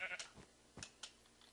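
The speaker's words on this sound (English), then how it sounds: "And let's hit another sheep here." A sheep in the Minecraft video game bleats as it is hit, a few short faint bleats in quick succession.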